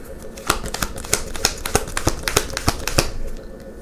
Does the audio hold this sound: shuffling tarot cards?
yes